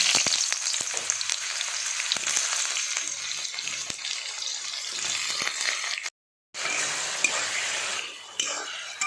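Ridge gourd with nigella seeds fries in hot oil, a bright steady hiss with soft stirring scrapes, cut by a brief silent gap before the sizzle resumes.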